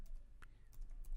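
Keystrokes on a computer keyboard, a few quiet clicks spread unevenly over a short moment with faint room noise, no talking.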